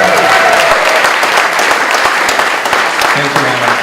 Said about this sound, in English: How about a big round of applause for Trent Moore for bringing us all together